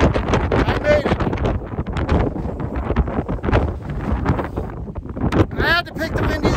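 Strong wind on the summit of White Butte, North Dakota, buffets the microphone with loud continuous roaring gusts that swell and ease, while a person talks through it.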